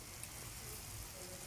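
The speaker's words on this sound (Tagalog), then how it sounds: "At ayan, kumukulo na siya." Fish soup with tomato, onion, ginger and sweet potato leaves bubbles in a pot at a soft, steady simmer, a faint hissing boil with a few small pops, alone and close.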